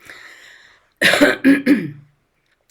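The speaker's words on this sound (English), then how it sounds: "I have to clear my throat." A person clears their throat in three sharp, close rasping bursts after a brief faint breathy sound, followed by a tiny click.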